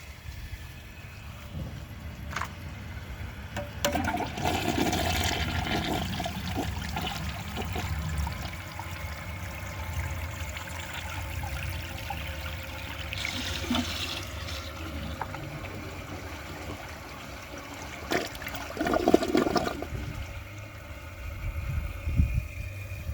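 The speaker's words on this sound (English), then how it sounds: "With that one, they both took it in 2 flushes" Water rushes and swirls during a toilet flush test comparing a Vortens Vienna with a Mansfield Alto, with several surges of flow and trickling over a steady low rumble. Bumps and handling noises come and go.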